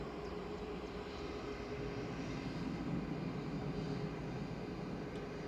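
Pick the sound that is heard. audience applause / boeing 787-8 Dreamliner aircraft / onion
boeing 787-8 Dreamliner aircraft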